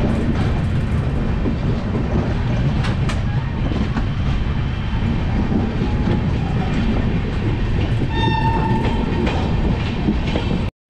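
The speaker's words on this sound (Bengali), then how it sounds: "আর পাশে একটা ট্রেন চলে যাচ্ছে আর আমাদের ট্রেনে হুইসেল দিয়ে দিয়েছে" Jammu Tawi–Kolkata Express setting: a neighbouring train rumbles and clatters past steadily and loudly, and near the end a train whistle sounds in a sustained tonal blast over the rolling noise.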